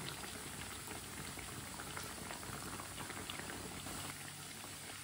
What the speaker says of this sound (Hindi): बाद में उल्टाते हुए पका लेंगे, दोनों साइडों से अच्छी तरह ब्राउन कर लेंगे।